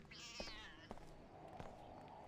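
A cat in the video game Deus Ex: Invisible War gives one drawn-out, wavering meow near the start, followed by quiet ambience with a few soft clicks and thumps, faint overall.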